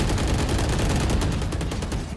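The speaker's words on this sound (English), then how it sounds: "Oh, absolute roar of gunfire there." Dense, continuous roar of rapid gunfire from a shooter video game match, with overlapping automatic bursts at steady loudness throughout, no talking.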